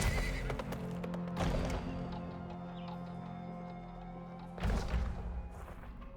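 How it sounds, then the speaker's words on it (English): In the video game Weird West, a horse gives a loud, shaky whinny alongside clip-clopping hooves, then a second burst of neighing near the end, over a steady game hum. "Psh, great, I accidentally knocked my horse out."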